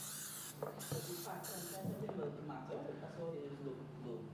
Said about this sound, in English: And we spray.